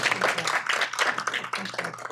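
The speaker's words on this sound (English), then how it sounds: "Lauren, round of applause." A dense burst of clapping fills the whole stretch, a crowd at a commission meeting applauding steadily and loudly with no voices.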